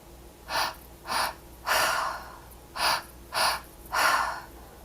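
Slow, deep breaths in a guided breathwork session, six drawn-out airy inhales and exhales in a steady rhythm, close and clear with no talk.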